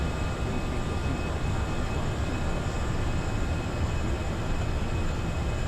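Steady, continuous roar of an easyJet Airbus A320's engines at climb thrust in the Prepar3D flight simulator, a broad, unchanging rumble with no talking.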